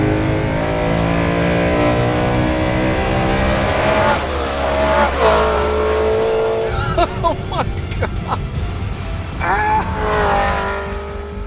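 A naturally aspirated V8 in a BMW M3 with exhaust modifications screams up past 8,000 RPM, harmonics rising and falling with each rev, with tire squeal nearby and an excited voice shouting briefly.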